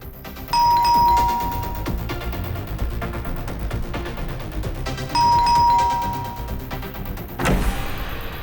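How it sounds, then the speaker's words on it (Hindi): A doorbell chimes twice in a row, pauses, then rings again the same way, followed by a dull thump. "कितना घंटी बजाते हो?"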